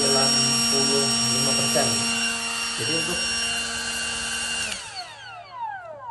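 A Makita LXT cordless jet fan turbo runs at its lowest speed setting, giving a steady, close whirring whine with a strong hum that winds down and fades near the end while someone talks over it.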